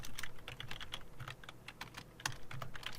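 Rapid keystrokes on a computer keyboard while working on a spreadsheet pivot table, a close, quiet run of clicking taps with brief pauses and no talk.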